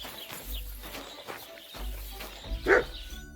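A dog in the medieval game Kingdom Come Deliverance 2 gives a few short yips and barks, with a sharper bark near the end, heard over low ambient game sounds.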